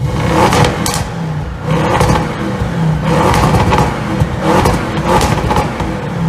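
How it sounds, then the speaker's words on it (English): Audi RS7 V8 exhaust revving up close, loud repeated throttle blips rising and falling in roughly regular pulses, with no talk over the engine. "I need to show you guys the most important thing about a car, the exhaust note"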